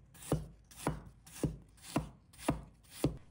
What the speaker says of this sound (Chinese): 1块生姜，把它切成片